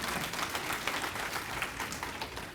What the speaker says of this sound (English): And it does deserve a round of applause.